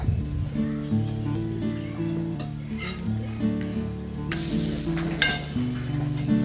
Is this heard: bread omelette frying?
yes